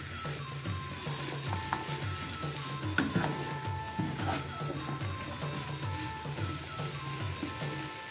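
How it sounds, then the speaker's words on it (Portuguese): Chicken salad vegetables sautéing in a pan, a soft, steady sizzle and faint frying crackle that continues evenly throughout, fairly quiet with occasional light clinks and no talking. "E a Lu vai ficar aqui refogando por 10 minutos"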